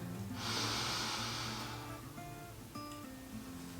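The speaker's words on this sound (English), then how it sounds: "So that is breathing in." A woman takes a slow, deep breath in through the nose during a pelvic floor exercise, one close, airy inhalation followed by a quieter pause with faint background hum.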